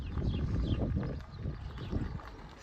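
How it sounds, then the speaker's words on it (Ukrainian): Horses stand in pens in a village. Heavy low thuds and shuffling hoof clatter come through a dense outdoor background, fairly close and continuous. "Коні стоять в загонах."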